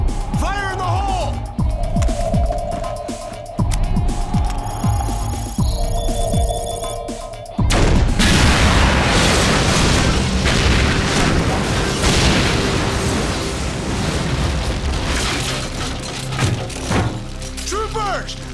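A grenade explosion in an animated sci-fi series comes as a heavy boom with a long rumbling roar that follows earlier thumps and sonar-like pings, while voices shout before and after the blast.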